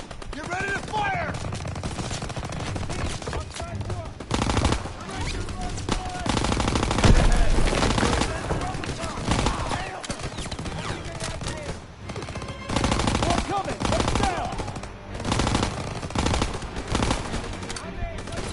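Dense gunfire in the video game Call of Duty: WWII, with rapid machine-gun bursts and overlapping rifle shots rolling almost nonstop under shouted voices and battle noise.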